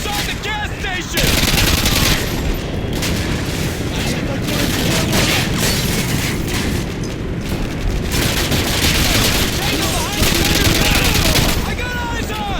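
Sustained machine gun fire in the video game Modern Warfare 2, rattling loud and dense for about ten seconds in a gas station firefight, with bursts and booms layered and shouted voices underneath.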